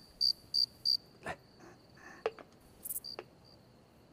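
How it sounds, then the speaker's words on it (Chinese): A cricket kept as a plaything in an imperial palace gives three quick, bright chirps at the start, followed by scattered faint clicks and taps and a brief spoken word. "是蛐蛐。"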